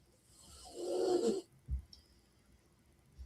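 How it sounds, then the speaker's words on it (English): A person snoring indoors, a single drawn-out rasping inhale about a second long, followed by a short snort and quiet breathing. "I hear you snoring again"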